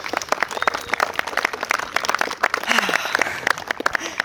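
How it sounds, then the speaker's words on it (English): Lively applause from guests at a wedding ceremony for the wedding party, many hands clapping with irregular sharp claps standing out, plus some cheering and chatter underneath. "a big round of applause for Paris's crew"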